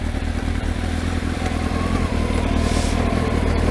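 Kawasaki ZX12R motorcycle engine idling steadily with the rear wheel unloaded, a loud, continuous low rumble with a loose chain rattling and clattering throughout.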